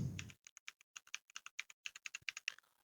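Close, quiet typing on a computer keyboard: a quick run of about twenty light key clicks in an uneven rhythm, alone.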